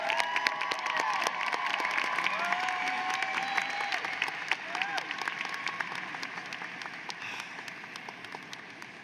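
Audience at a University of Washington College of Education graduation ceremony applauds as the student speaker comes to the podium. The clapping is dense and steady across the whole stretch, with a few whistles and cheers mixed in.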